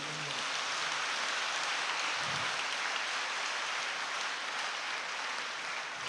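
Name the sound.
audience applause for the MCYM youth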